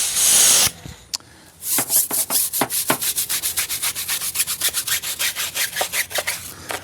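A handheld trigger sprayer squirts undiluted brake cleaner during a Porsche 718 GT4 wash. It gives an opening hiss, then a long run of quick, close, rhythmic spritzes that fade in and out.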